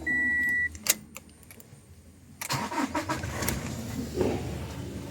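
A short beep, then a few clicks, then a Toyota Innova engine cranks and starts, running roughly with a couple of revs nearby.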